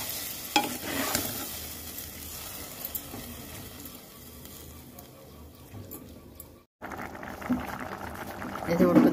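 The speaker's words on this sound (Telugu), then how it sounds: "నానబెట్టి పెట్టుకున్న పప్పుని ఇందులో వేసేసుకుందాం. వేసి ఒకసారి కలుపుకుందాం." Soaked lentils are stirred into softened onions in a pan, with a continuous sizzle, scraping stirs and a sudden pour-like break, while a voice talks over the cooking.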